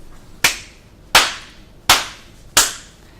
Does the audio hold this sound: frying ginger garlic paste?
no